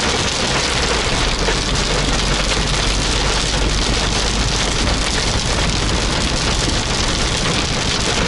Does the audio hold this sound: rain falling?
yes